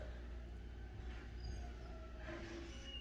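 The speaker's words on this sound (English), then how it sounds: "That's the garbage truck." A garbage truck working outside to collect trash gives a steady, low mechanical rumble heard from a distance. It runs unbroken for the whole clip and nobody speaks.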